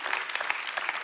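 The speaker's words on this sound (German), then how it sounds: "Lass ihm einen Applaus geben." Applause from a church audience at a Sunday evening service, a brief burst of dense clapping heard near and fairly loud with no speech over it.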